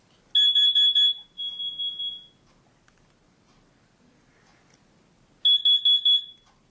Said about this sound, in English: The alarm's test function stops automatically after about a minute